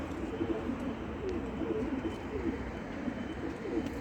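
A Mardin tumbler pigeon coos in soft, repeated low rolling calls close by, steady over faint background hum with no talk.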